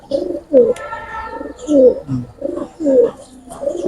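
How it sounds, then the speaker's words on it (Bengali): Pigeons coo at close range in a loft, a series of soft, rolling coos repeating in short bursts, with no one talking. "কোয়ালিটি সম্পূর্ণ কবুতর ভাই"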